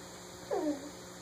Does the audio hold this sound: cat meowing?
yes